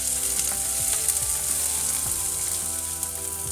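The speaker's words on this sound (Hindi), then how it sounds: "इन प्याज को हल्का भूरा होने तक पकाएंगे।" Onions fry in a pan with a close, steady sizzle and crackle, broken by soft stirring scrapes, and no voices over it.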